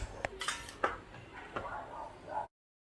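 A knife cuts through a hard sweet gourd (kalbas dou), giving several close, sharp crunching chops and scrapes at irregular intervals, then abrupt silence.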